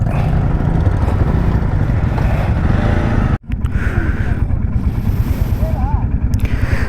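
A Royal Enfield Hunter 350 motorcycle idles and rumbles close by during an Independence Day group ride, a low steady engine throb with a brief dropout midway, while someone speaks over it.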